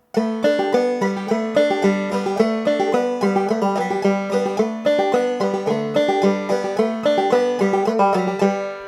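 A banjo plays a bright, rolling picked pattern of quick steady notes, repeating continuously with no voices.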